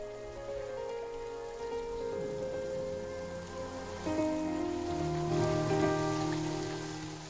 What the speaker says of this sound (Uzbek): Biri panada, biri yomg'ir ostida.